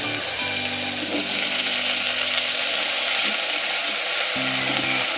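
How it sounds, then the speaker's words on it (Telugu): Chana dal, urad dal, mustard seeds, cumin, green chillies and onion fry in oil in a clay pot over a medium flame, giving a steady, loud sizzle with a few scraping clinks near the start and end. "పచ్చెనగపప్పు, మినపప్పు, ఆవాలు, జీలకర్ర, పచ్చిమిరకాయ, ఉల్లిపాయ అవన్నీ కూడా వేసి వేయించుకోవాలి."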